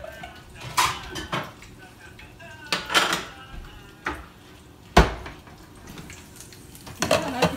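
Pots, pans and cutlery clatter with sharp metallic knocks and scrapes, about six distinct bangs spread irregularly, as a cook seated at the stove cooks eggs in a kitchen abroad; occasional voices murmur in the background.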